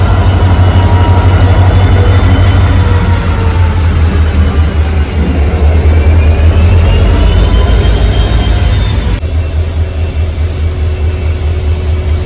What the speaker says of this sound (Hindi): सो अभी आप देख रहे हो ट्रेन आ रही है